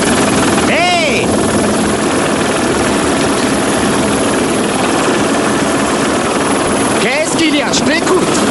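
A helicopter flies with a loud, steady rotor and engine roar that fills the whole clip, while voices speak over it in short bursts near the start and end.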